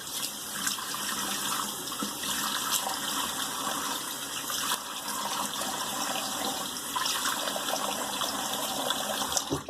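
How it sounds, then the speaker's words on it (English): A razor being rinsed under a running tap after a shave, a steady close rush of flowing water splashing into a sink for the whole stretch, no speech. "Let me rinse that off real quick."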